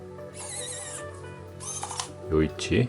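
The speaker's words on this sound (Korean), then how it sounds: "요이치는 닫힐 때 좀 찰칵하는 소리가 납니다." Motorized wireless car phone charger mount (Yoichi Libra 2nd generation) closing inside a vehicle, a soft motor whir ending in two short clicks near the end, close and fairly quiet over low cabin hum.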